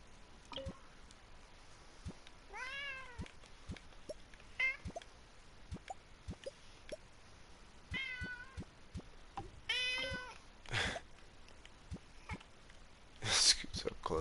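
Carl the cat meows several times close by, a few drawn-out wavering cries spaced between soft taps and clicks, with a person talking quietly between the meows.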